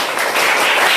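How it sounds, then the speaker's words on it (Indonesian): Schoolchildren in a classroom applaud a classmate's conclusion with a brief, dense burst of clapping that fills the room without any talk. "Tepuk tangan anak-anakku semua dari kesimpulan dari Kesya tadi"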